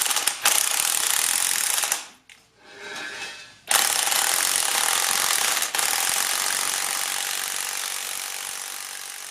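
A pneumatic impact gun fitted with a 19mm socket works on a 1990 Honda Civic Si EF hatchback exhaust pipe, loud continuous rattling hammering bursts with a brief pause midway, no talking.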